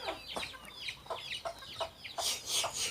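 A chicken clucks repeatedly at close range in a rural outdoor setting, giving short, choppy, irregular calls across the whole stretch, a bit louder toward the end, with no talk.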